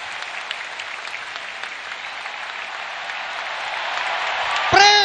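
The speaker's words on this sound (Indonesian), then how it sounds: "Berikan tepuk tangan yang paling meriah buat beliau." A large stadium crowd at a political rally for Anies Baswedan at JIS Stadium applauds in a dense, steady roar of clapping and cheers that swells slightly toward the end, with a whistle-like tone cutting in at the close.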